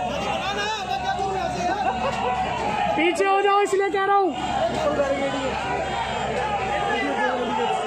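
A crowd of Youth Congress protesters gathers during a march on parliament over rising prices, filling the air with a steady babble of many voices while someone speaks close by over the noise.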